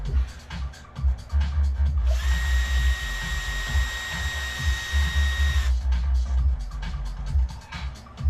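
A heat gun blows a steady, loud whine with clear tonal harmonics for about three and a half seconds, warming setting epoxy, with background talk before and after.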